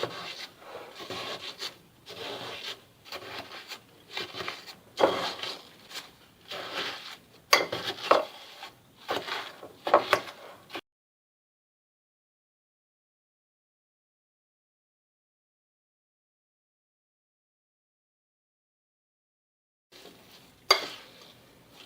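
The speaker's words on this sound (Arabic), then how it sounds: "هنا نخلط شويه بالفرشيطه باش نقدر نميكسيه" A fork whisks batter for Algerian lemon crêponé in a bowl with steady, rhythmic scraping and tapping strokes for about ten seconds. Then there is silence, followed by a short final burst of stirring.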